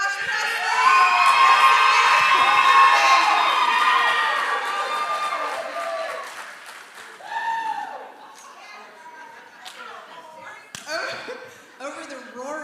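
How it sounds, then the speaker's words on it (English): A crowd roars and cheers loudly inside a church, with shouts and whoops peaking early, then fading into scattered cheering and a few sharp bursts of noise. "Over the roaring of the crowd"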